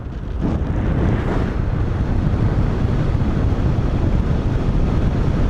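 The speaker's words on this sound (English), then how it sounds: "This wind is so butter smooth." Steady, loud wind rushing and buffeting against a microphone while paragliding in South Australia, a continuous low roar with no gusts or breaks, no voices.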